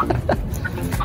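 Young native heritage chickens, three hens and a cockerel, being settled into an open foraging area, cluck in a few soft, scattered calls close by over a steady outdoor background.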